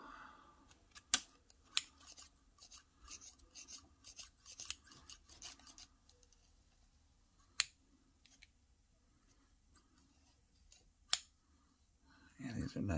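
Stainless steel scissors from a kitchen knife set snip in quick bursts of sharp, crisp cuts, close and fairly quiet, with scattered single clicks later on and low voices murmuring in the background.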